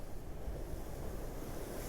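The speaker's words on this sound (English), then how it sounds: "the lovely gentle noise, water lapping against the hull" Gentle water laps steadily against the hull of a chartered boat off Mallorca, a soft continuous wash with faint wind and no voices.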